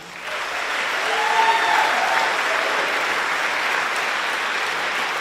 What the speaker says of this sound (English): Can we please give them another round of applause for that?